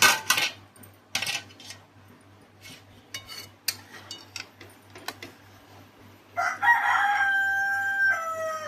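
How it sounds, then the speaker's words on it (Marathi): A rooster crows loudly near the end on a farmstay, a long drawn-out call following scattered clinks and knocks, with no talking. "इकडे कोंबडा बघा कसा आरवतोय आवाज येत असेल"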